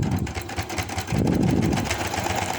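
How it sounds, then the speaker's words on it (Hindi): A sewing machine runs a continuous seam on a baby hoodie, its motor giving a steady close whirring rattle that grows louder and denser partway through. "अब मैं इसको एंड तक सिलाई लगा देती हूँ।"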